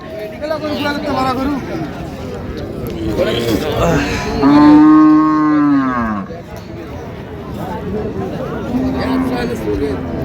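A cow lows once, long and loud, at the Raniganj livestock market where dairy cows are sold with their calves, rising over a steady murmur of crowd chatter and nearby voices.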